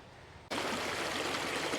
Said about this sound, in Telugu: నాకైతే వాటర్ సౌండ్ వినిపిస్తుంది